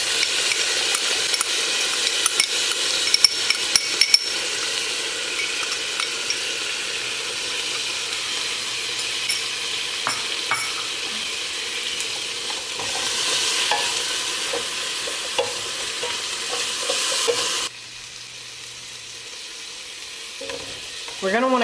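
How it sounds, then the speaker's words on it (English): Minced garlic, about two tablespoons, sautéing in a pot for a vegan Tuscan soup, giving a steady close sizzle and hiss with occasional stirring scrapes and small clinks, no voices. "I'm gonna go ahead and add that in and let it saute"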